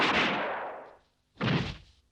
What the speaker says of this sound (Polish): Dobry strzał!